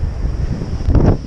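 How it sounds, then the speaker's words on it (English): Strong wind buffets the microphone on Tray Mountain's summit, a brief, loud, rumbling gust swelling toward the end. "It's really windy."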